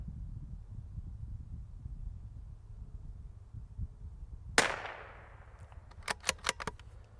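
A Savage B22 rimfire rifle fires a single sharp crack over outdoor wind noise, followed by a fading ring and several quick metallic clinks as the shot strikes a steel target at 100 yards.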